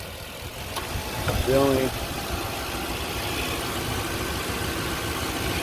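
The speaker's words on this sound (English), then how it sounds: "So engine's quiet and smooth. It's the V8." A 2004 Toyota 4Runner Limited V8 idles with a quiet, smooth, steady hum, and a brief word is spoken early on.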